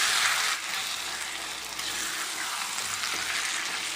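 Mango pickle fries in hot oil, giving a loud, dense, continuous sizzle with faint stirring underneath, heard close and without talk.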